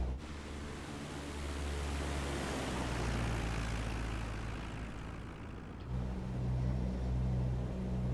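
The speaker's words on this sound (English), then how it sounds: "let's do a quick flyby, see how it sounds." A Grumman aircraft makes a low flyby in Microsoft Flight Simulator 2024, a steady, loud propeller engine drone that shifts in tone near the end.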